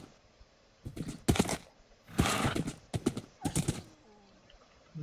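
A Minecraft horse, heard as several short bursts of hoof clatter and whinnying noises separated by quiet gaps, fairly close and loud.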